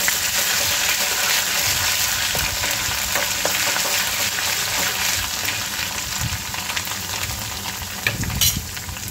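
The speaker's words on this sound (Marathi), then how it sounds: "आपण जे वाटण केलं होतं आलं, लसूण, मिरची, कोथिंबीरचं ते घालून घ्यायचं आहे आणि याला छान परतून घ्यायचं आहे." Ginger, garlic, green chili and coriander paste sautéing in a pan, a continuous close sizzle with occasional scrapes of stirring.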